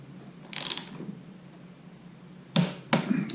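Torque wrench tightening the fork retaining nuts on a 1987 Honda XL600R motorcycle, heard as three sharp ratcheting bursts, one early and two close together near the end, with quiet gaps between.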